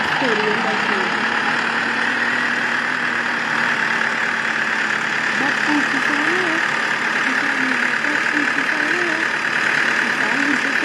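A tractor engine idles in the Indian Bike Driving 3D video game, a steady mid-pitched drone running throughout at constant loudness, with a faint voice briefly underneath.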